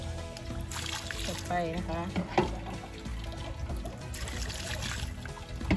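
Water runs and splashes while a Guanyin taro bulb is washed clean of its slime, coming in two bursts, with someone talking over it.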